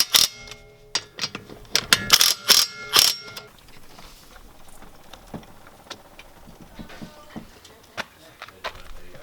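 Impact wrench zapping lug nuts onto the wheels of a BMW E36, a cluster of loud, rapid ratcheting bursts in the first few seconds, then quieter scattered clicks and tool handling.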